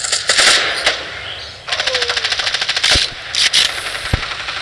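Video game FAMAS rifle firing in rapid automatic bursts, loud close rattling volleys broken by brief pauses, with a few single heavier shots.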